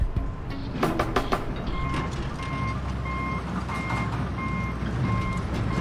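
Trucks reversing at a demolition site while being loaded with scrap metal, a steady series of high reversing beeps repeating over continuous engine rumble and clanking site noise.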